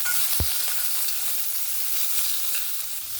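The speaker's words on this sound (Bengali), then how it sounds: "চিকেনটাকে হালকা 2 মিনিটের মতন একটু নাড়াচাড়া করে নেব।" Chicken pieces sizzling in a hot pan for a vegetable chicken soup, a steady bright frying hiss with one dull knock of stirring near the start.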